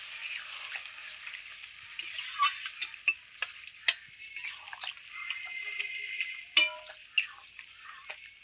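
Masala and potatoes with pabda fish stir-fried in a pan, a soft sizzle under scattered ticks and scrapes of stirring, close and fairly quiet, with no talk.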